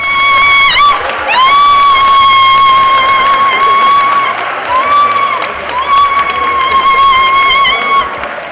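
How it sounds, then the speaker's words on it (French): Conference delegates clap and cheer together with long, high, wavering ululation cries that rise and fall over a steady bed of crowd applause, loud and close throughout. "Des applaudissements Youyou"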